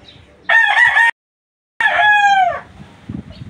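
A fighting stag rooster crows twice, loud and close, with a short silent gap between the calls, followed by faint clucking in the background.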